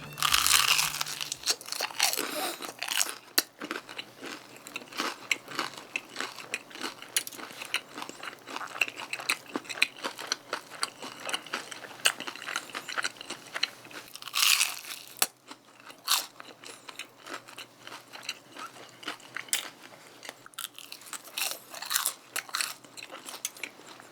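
Someone eating a crunchy mini hot dog as an appetizer alongside half-fried, half-seasoned Pelicana chicken, close-up bites and repeated crisp crunching and chewing over about 24 seconds, with no talking.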